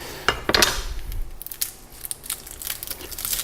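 Knife chopping onion for Indian red lentil dal, a run of crisp cuts and crunchy cracks on a board at close range, irregular in rhythm with brief pauses between strokes.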